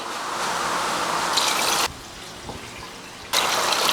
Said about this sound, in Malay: Kita masukkan air tadi sukatan air